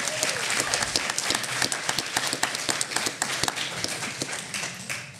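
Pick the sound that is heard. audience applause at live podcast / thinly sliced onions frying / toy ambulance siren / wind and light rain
audience applause at live podcast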